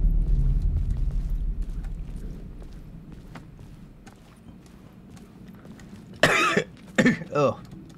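A person coughs close to the microphone while playing Alan Wake II on PC: three sharp, loud bursts near the end, after a stretch of quiet low room rumble.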